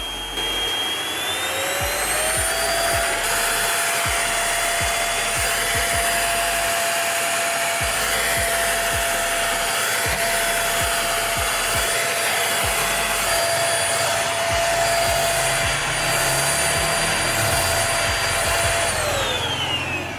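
A Kurumi KV05 vacuum cleaner runs in normal mode without turbo, giving a loud, steady whirring drone with a high whine that holds evenly throughout, with no talk.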